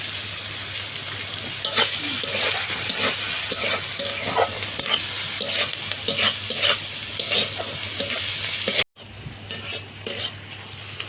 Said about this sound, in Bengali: পেঁয়াজটা সুন্দরভাবে ভাজা হয়ে গেছে